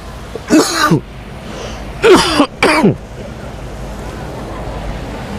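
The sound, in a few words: coughing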